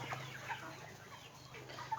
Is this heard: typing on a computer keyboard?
no